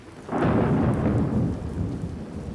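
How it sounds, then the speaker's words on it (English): Thunderstorm with heavy rain: a deep roll of thunder swells and slowly fades over a steady, hissing downpour, with no voices. "The rain was hammering against my windows with unusual force, and the thunder was so loud"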